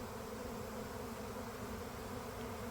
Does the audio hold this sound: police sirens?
no